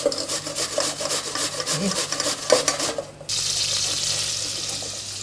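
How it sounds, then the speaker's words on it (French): Shallots frying in a pan and being stirred, with repeated rubbing, scraping strokes up close, then a steady, even hiss of sizzling in the final seconds. "Je vais tourner un petit peu les échalotes."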